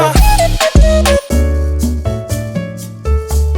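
Moombahton drop section built from a chopped vocal line over a drum fill, loud and dense with full-band low end, stuttering cuts and quick pauses leading into the drop, no talking.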